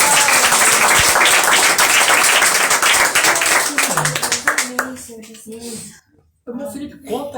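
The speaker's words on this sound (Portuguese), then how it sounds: "Pode dar uma salva de palmas para Jesus?" A church congregation applauding for Jesus, dense clapping filling the room for several seconds before thinning out and stopping, with a voice speaking over the tail end.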